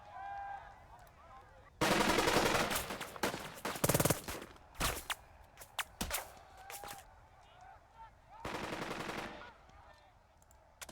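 Automatic gunfire in the WWII tactics video game Burden of Command: loud, dense bursts of rifle and machine-gun fire, with scattered single shots between them, over low game ambience and faint voices.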